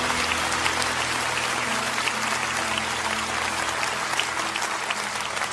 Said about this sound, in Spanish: No dejen de darles ese aplauso